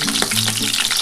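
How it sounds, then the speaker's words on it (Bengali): Cauliflower florets fry lightly in a pan for a vegetarian khichuri, giving a steady, close, hissing sizzle that runs without a break through a brief moment, with no talking. "আমি ফুলকপিটা একটু হালকা করে ভেজে তুলে নেবো বন্ধুরা।"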